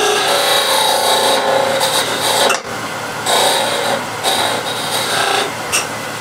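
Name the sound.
scraping a lump in a coffee container while turning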